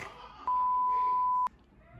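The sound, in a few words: electronic beep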